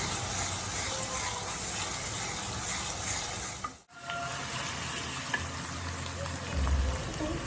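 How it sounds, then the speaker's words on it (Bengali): Spices frying in hot oil for a Bangladeshi egg korma with bay leaves, a steady bright sizzle broken by a brief pause midway, with faint scraping and low clatter from the pan. "আমি একটা একটা করে মশলা দিই এবং ভালো করে একটু ভুনি"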